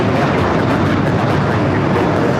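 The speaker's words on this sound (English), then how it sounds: "Delta Airlines 1793 taking off to Puerto Vallarta on the 737-800" Delta Airlines Boeing 737-800 taking off at LAX, a loud broadband engine roar that stays constant and dense throughout with no pauses.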